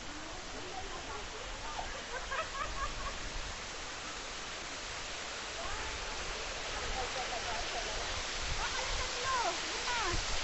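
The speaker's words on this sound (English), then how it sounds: "There's the waterfall I promised you." A waterfall on a mountain peak trail roars in a constant, dense rush of white noise, steady and full throughout with faint voices mixed beneath.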